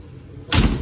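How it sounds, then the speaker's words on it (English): Driver door of a 1954 Hudson car swinging shut, a single solid, close thud after a moment of quiet, followed by a brief ringing decay. "Let's see what the driver door sound like."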